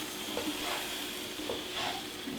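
Crepe batter fries in a pan with a soft, steady sizzle, faint and continuous, with a few light scraping or stirring touches and no talk.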